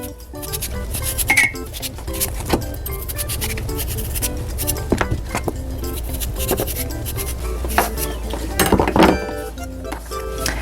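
A knife quarters a cucumber on a cutting board, making scattered sharp clicks and taps up close against a low, steady background.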